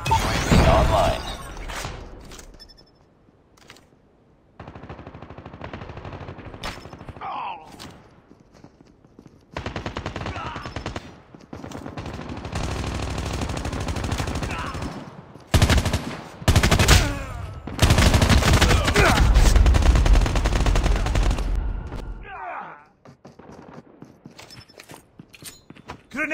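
Gunfire in a shootout in the video game Call of Duty Mobile, with bursts of automatic fire and loud shots coming in irregular clusters, separated by quieter gaps.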